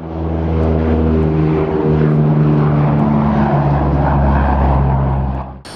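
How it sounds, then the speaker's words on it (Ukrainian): Two An-32 turboprop airplanes fight a warehouse fire from the air, and a steady propeller-engine drone holds loud and close throughout with no break in the sound. "Пожежу на складах у Калинівці гасять з повітря два Ан-32 літаки Державної служби з надзвичайних ситуацій"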